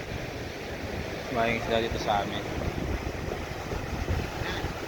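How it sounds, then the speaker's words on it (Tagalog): Big sea waves and gusting wind by fishing boats off the coast, a constant rough roar of surf and wind buffeting the microphone while someone talks briefly over it. "Oh, lalaki ng alon."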